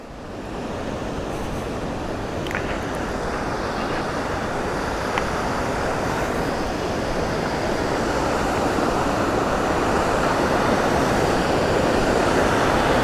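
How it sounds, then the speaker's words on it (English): A waterfall on Dick's Creek, swollen after two days of heavy rain, roars in a steady, dense wash with no pauses, growing slightly louder as it goes; no one speaks. "We're gonna check out this waterfall."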